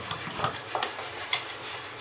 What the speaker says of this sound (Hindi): और ये देखिए पीछे कामकाजी पुरुष धो रहे हैं बर्तन।